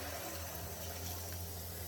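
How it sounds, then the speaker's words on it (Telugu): Water pours into curry gravy in a pressure cooker in a steady, continuous stream for about two seconds, a close, even rushing sound with a low hum underneath. "గ్రేవీ ఎంత కావాలో అంతగా కొంచెం వాటర్ వేసేసుకోవడమే"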